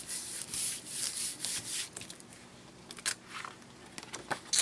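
Paper being rubbed by hand over a Gelli printing plate, giving repeated close scratchy rubbing strokes that are stronger at first and then become lighter and more sporadic, with a few sharp crinkles near the end.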